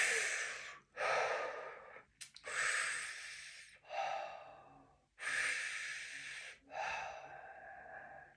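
Slow, deep breaths during a fascia release exercise, each long airy inhale and exhale close and clear, repeating in a steady rhythm with short quiet gaps between them.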